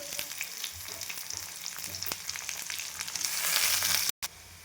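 Onion frying in oil with cumin, whole spices, green chili and curry leaves for tomato rice, a dense continuous sizzle with stirring scrapes, close and steady, briefly cutting out near the end.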